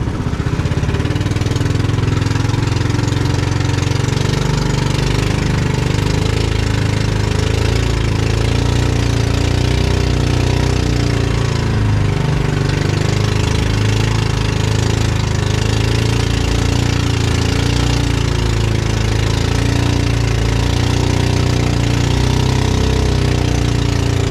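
A boat engine runs loud and close at sea, a steady rough throbbing drone that holds without a break for the whole stretch, with no voices audible over it.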